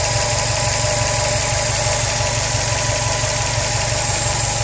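A 2013 Subaru STI with upgraded fuel injectors and fuel rails idles close by, a steady engine drone carrying a fast, even ticking throughout.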